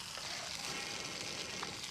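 Fish frying in a pan over a wood stove at a riverside cookout gives a quiet, steady sizzle and hiss that runs unbroken throughout, with faint crackles.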